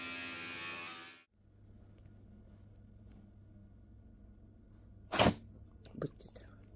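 A single sharp sneeze bursts out indoors, followed moments later by a smaller second snort-like burst, over a low steady hum; a voice talks briefly before it.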